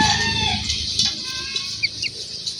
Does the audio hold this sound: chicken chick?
yes